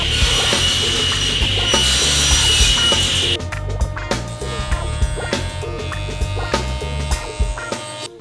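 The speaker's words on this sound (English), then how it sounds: "the first thing I'm going to do is cut one end square, and then I'm going to cut a length about 10 inches long" A length of cherry wood being cut square with a saw, a loud close rasping drone that shifts partway through into rhythmic grinding strokes with mechanical rattles, and no talking.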